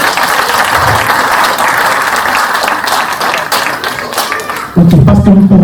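Guests at a customary wedding ceremony in Liège, Belgium, applaud loudly and continuously for nearly five seconds before the clapping gives way to a louder voice or music.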